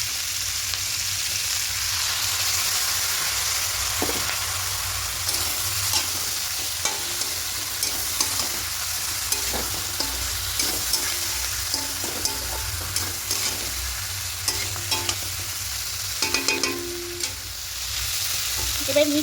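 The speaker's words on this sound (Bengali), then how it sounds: "এবার এখানে যে পোস্ত শুকনো লঙ্কা পেস্টটা করেছিলাম ওটা দিয়ে দেবো।" Poppy seed and dry chilli paste frying with onions and turmeric in a pan, a continuous sizzle with frequent light spatula taps and scrapes up close.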